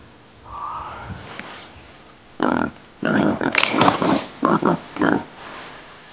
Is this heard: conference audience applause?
no